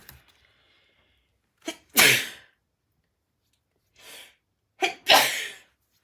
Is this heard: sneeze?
yes